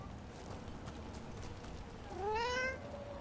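A cat meows once, short and clear, in the Dragon Age: The Veilguard video game, over a steady background hum.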